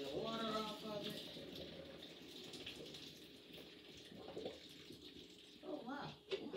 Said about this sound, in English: I'm just draining the water off of it